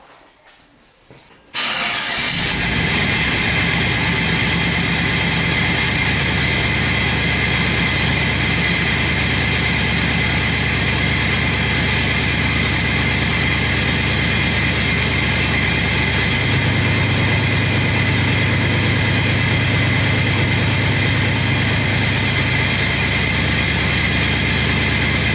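A triple-turbo Ford Ranger engine cranks and catches after a short quiet moment, then idles loud and steady with the exhaust cutout valve open, a constant rumbling drone close by with no talk.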